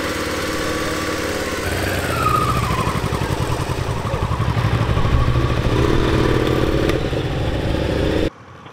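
Motorcycle engine idling, then revving up with a rough, throbbing rhythm as the ride begins, close and loud before cutting off abruptly.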